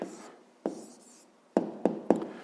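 A pen writing an answer by hand on paper: short scratchy strokes come in a few separate bursts with quiet gaps between them, close and faint, and nobody speaks.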